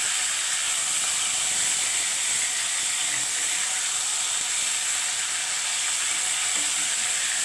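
Boal fish sautés lightly in a pan with a constant, even hiss of hot oil, close and unbroken throughout with no talking.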